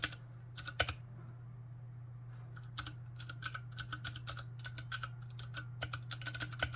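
Crisp clicking keystrokes on a custom carbon fiber mechanical keyboard, starting with a few isolated taps and then settling into a steady typing rhythm over a low hum.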